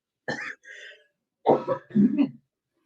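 Several short, rough coughs from one person up close, in two quick clusters with a brief pause between.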